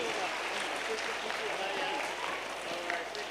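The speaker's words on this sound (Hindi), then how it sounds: "ज़ोरदार तालियां इनके लिए।" Audience applause during a quiz contest prize ceremony, steady hall clapping with crowd murmur throughout, faint and somewhat distant.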